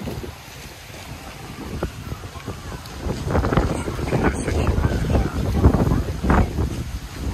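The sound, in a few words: strong wind blowing into the microphone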